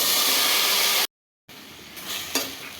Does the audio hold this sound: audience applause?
no